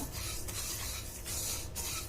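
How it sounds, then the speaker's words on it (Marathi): Soft dry scraping and rasping as mukhwas seeds coated with turmeric are stirred in a hot kadhai with the gas off, quiet and continuous for a couple of seconds. "आता मी गॅस बंद करणार आहे आणि अर्धा मिनिटभर आपण अजून ह्या गरम कढईमध्ये हे असंच परतून घेणार आहोत"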